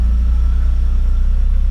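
A Mazda Miata engine idles steadily with a low, even rumble and a fine regular pulse, close by and constant for the whole stretch with no revving.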